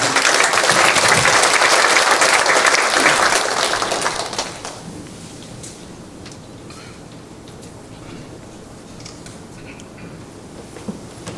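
Loud, dense applause from a crowd at a church general assembly policy debate fills the first four seconds, then fades out, leaving quiet room tone with a few faint clicks.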